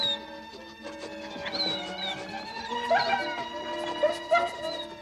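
Trained dogs in a Smurfs cartoon whimper and howl in high, wavering cries over a bed of cartoon background music, fairly faint and continuous.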